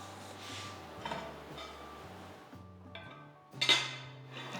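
A lid goes over a bowl of onion vada (ulli vada) batter with one sharp clink near the end, after softer dull knocks against a faint steady background hum.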